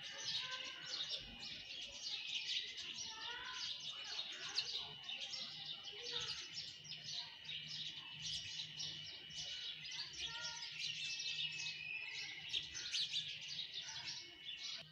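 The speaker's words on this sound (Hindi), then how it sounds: "वीवर्स चिड़ियाँ बहुत उड़ रही हैं चलाक" Weaver birds chirp outdoors in a dense, continuous chorus of overlapping high tweets, soft and somewhat distant throughout, with no talking.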